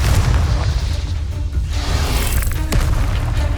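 A Confringo spell explodes in the video game Hogwarts Legacy, a loud, sustained booming blast with a deep rumbling low end and a rushing burst tail, dense and close without speech.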